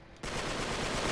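Machine gun fire in the Uncharted 3 action game, starting abruptly after a short quiet moment and then roaring on as a dense, continuous burst, close and steady.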